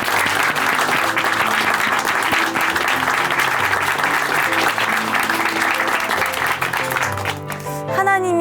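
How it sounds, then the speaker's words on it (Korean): Sustained audience applause at a Korean church Christian testimony broadcast, dense and steady clapping filling the space for several seconds before tapering off near the end. "박수로 응원해 드리겠습니다"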